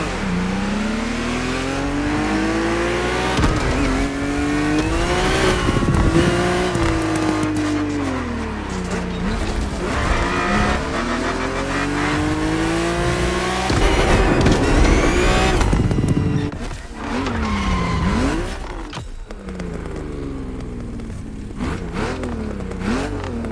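A BMW race car in The Crew Motorfest roars through repeated gear changes, engine pitch climbing and dropping with each shift, loud and close, with brief tire squeal and bursts of acceleration throughout.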